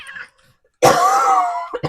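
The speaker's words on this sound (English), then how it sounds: "I got a cough again." A single harsh, raspy cough from a person with a cold rings out close by after a short pause, followed by a brief second catch of breath.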